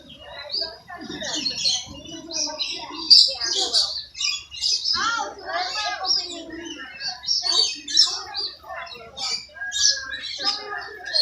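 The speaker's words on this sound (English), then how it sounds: "it's a parrot." Parrot squawking and chirping in a rapid, irregular series of sharp, loud calls close by, with a few quieter chatters between bursts.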